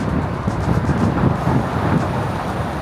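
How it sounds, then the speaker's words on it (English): Steady roaring wind on a bridge buffets the microphone, a constant low rumble with gusty swells throughout, loud and close, no voices. "It's super noisy, super windy"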